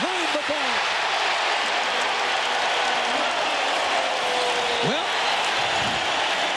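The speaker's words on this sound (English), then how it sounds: "something had to get the crowd going" Basketball arena crowd at an NBA playoff game between the Bucks and Pacers roaring and applauding in a loud, steady wash, with a voice talking over it.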